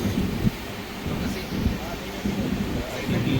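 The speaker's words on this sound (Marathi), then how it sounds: "तर पुन्हा पाऊस सुरू झाला आहे बघा केरळमध्ये किती जबरदस्त पाऊस येतोय" A dense, steady rush of heavy rain in Kerala fills the whole stretch, with a few low rumbles and muffled thumps underneath.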